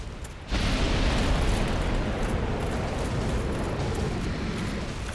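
Kalameet, the black dragon in Dark Souls on PS5, unleashes a fire attack: a sudden loud roaring rush of flame that bursts in after a brief quiet and sustains as a dense, even blast to the end.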